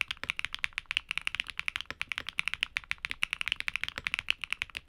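Rapid, steady typing on a mechanical keyboard fitted with Keygeek switches, each crisp keystroke clicking close up in an even run with no voices.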